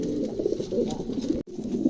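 A pair of pigeons for sale coos steadily in low, throaty rolls, close and continuous for the whole stretch, with a brief drop to near silence midway.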